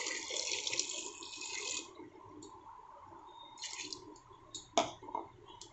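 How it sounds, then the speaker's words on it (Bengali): Water poured into a pot while cooking a jackfruit and chana dal dish in a home kitchen, a splashing gush followed by quieter trickling and a few drips and clinks, close, without speech. "পরিমাণ মতো জল দিয়ে দিলাম"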